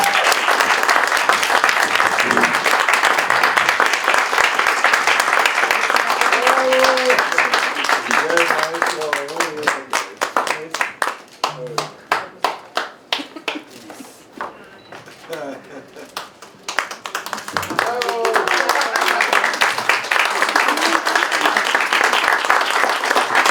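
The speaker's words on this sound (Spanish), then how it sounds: "Si quieren dar un aplauso a los profesores que van pasando, adelante." An audience at an academic medal ceremony applauds professors walking up, dense clapping that thins into sparse individual claps midway with voices audible, then swells back to full applause.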